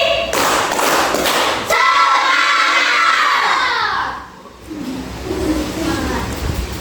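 Children in a classroom clap together three times, firm thudding beats, then cheer and shout as a group before chatter continues.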